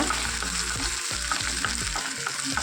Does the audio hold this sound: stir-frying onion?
yes